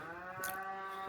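A cow moos once from the bushes on a mountain nature walk, a single drawn-out low call with a brighter rise partway through, moderately close and alone with no talking.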